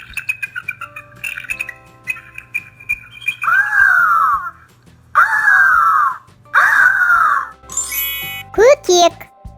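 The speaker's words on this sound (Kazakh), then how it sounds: "eagle." An eagle gives a run of harsh, drawn-out screeching calls, loud and close, coming in several separate bursts that turn shriller near the end.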